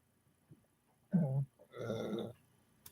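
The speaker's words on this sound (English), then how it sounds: "didn't mean to belch there" A person lets out a belch in two low, guttural bursts, the second longer and rougher, close by in an otherwise quiet room with no speech.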